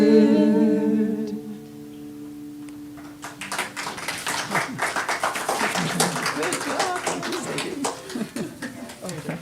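An audience breaks into a crowd of rapid, overlapping applause for Nancy after a voice speaks, and the clapping stays steady and fairly close until the end.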